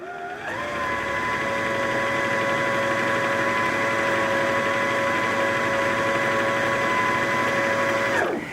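A Janome 3160QDC sewing machine winds a bobbin with a steady, close mechanical whir that spins up quickly, hums at an even pitch for about eight seconds, then winds down abruptly.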